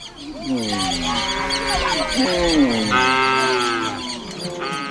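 Cattle mooing loudly and continuously as a herd of thousands is driven toward a river at a Dinka cattle camp, with overlapping low calls from many animals close by.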